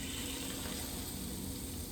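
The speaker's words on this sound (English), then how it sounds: "Hear that sizzle" French toast cooking in a waffle iron, a soft, steady broadband sizzle that stays even and quiet throughout, with no voices.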